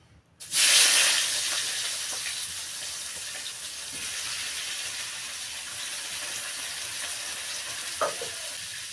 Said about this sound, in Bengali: এখানে দেখো পেঁয়াজটা আমার লাল করে ভাজা হয়ে গেছে